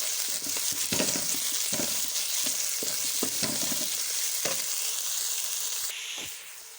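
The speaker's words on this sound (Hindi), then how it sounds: "अब हमने प्याज और मेथी को अच्छे तरीके से भूनना है।" Onions and fenugreek leaves sizzle steadily on a hot tawa for a tawa mixed-vegetable dish, with a broad continuous hiss broken by scraping stirs. The sizzle eases slightly near the end, and no one speaks.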